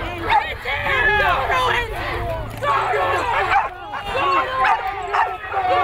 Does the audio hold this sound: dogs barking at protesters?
yes